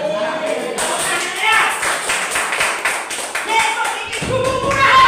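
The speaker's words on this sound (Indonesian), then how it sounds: "Tepuk tangan." A church congregation claps during a sermon, with dense, loud applause sustained throughout, steady and enthusiastic with no break.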